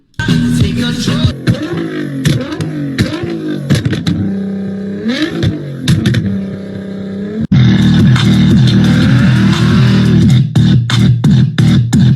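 A Mazda RX-7 drift car's rotary engine screams through repeated high revs, pitch sweeping up and down with sharp throttle blips, loud and close, then a sustained harsh wail with crackling bursts near the end.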